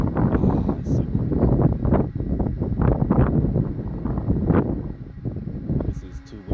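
Strong wind buffets the microphone outdoors at an open field by water, a continuous loud, rumbling roar that eases slightly toward the end while someone talks over it.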